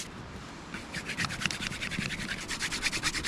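A wooden spindle is rubbed rapidly back and forth on a spindle board to make a friction fire outdoors, producing a quick rhythmic scraping that starts softly and builds into a steady series of close strokes.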